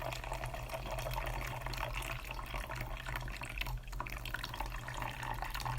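Hot water from a cup of Japanese instant yakisoba drains through a built-in drainer lid into a sink, a steady splashing rush held at low, even loudness throughout.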